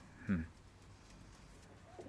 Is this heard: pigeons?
yes